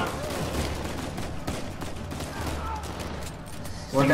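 Dense gunfire from the video game Uncharted 4, with sustained bursts and rattling shots filling the clip, a prison-escape fight, loud and continuous, with a brief louder spike near the end.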